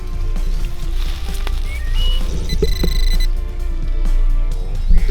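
Metal detector sounding while sweeping a forest floor for old bullets: short electronic beeps and a sustained tonal signal rise over a steady outdoor background.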